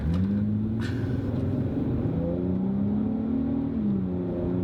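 An Infiniti G35 Coupe engine revving up to around 4,000 rpm, a loud, close mid-pitched drone that climbs steadily, holds, then drops back, with no speech over it.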